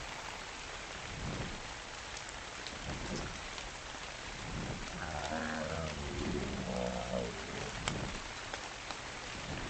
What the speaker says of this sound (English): Of course, more rain again.